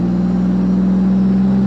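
A supercharged Pontiac Fiero race car engine drones steadily and loudly at close range as the car drives through a turn, with an even, continuous hum and no breaks.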